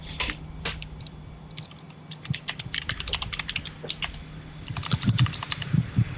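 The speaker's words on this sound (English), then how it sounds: "He's typing." Fingers type on a computer keyboard in a bursty, irregular rhythm of close, sharp key clicks, with a few short pauses and heavier keystrokes near the end, and nobody speaking.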